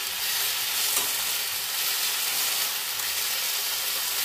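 Fiddlehead greens cooking with chili in a pan, a steady, loud close sizzle with continuous stirring throughout and no talking.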